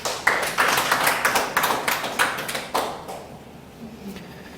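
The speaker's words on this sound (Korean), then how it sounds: "하나님께 영광의 박수를." Church congregation clapping during a Sunday worship service, a short run of rhythmic, fairly sparse claps in a reverberant hall that stops after about three seconds, leaving quiet room tone.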